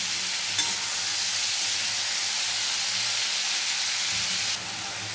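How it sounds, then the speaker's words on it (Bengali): Onions fry in a pan with a steady, loud, hissing sizzle that holds throughout and eases slightly near the end; close, with no talk. "ভালো করে পেঁয়াজটাকে লাল লাল করে ভেজে নেব।"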